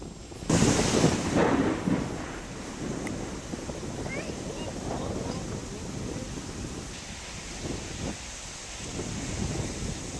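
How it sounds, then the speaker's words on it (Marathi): Stormy wind with unseasonal rain and thunder in Satara, heard as a loud, steady roar of wind buffeting the microphone, with a gust swelling near the start and rushing noise throughout. "वादळी वाऱ्यासह आणि विजांच्या कडकडाटासह अवकाळी पावसानं हजेरी लावली"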